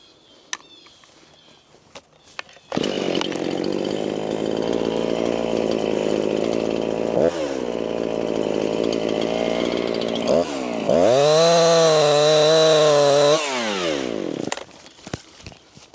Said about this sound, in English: Unless that is a chainsaw